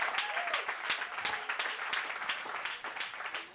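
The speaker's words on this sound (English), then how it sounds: "No, you can go ahead and clap." An indoor audience at a chat with a tech company founder breaks into brisk applause, a dense, close patter of clapping that holds steadily for the whole few seconds.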